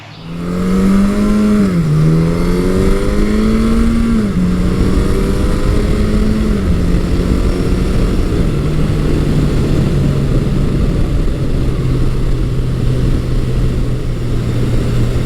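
A 1983 Suzuki GS1100E motorcycle engine under way, a loud steady drone with a pitch that rises and dips through gear changes, then settles into an even cruising hum with wind noise, no voices.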